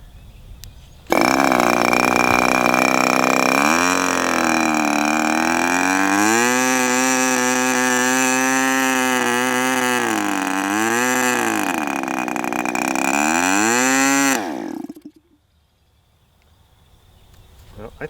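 An HP 20 Gold Cup engine with a poorly set carburetor starts abruptly and runs loudly, its pitch wavering up and down for about thirteen seconds before cutting out into quiet.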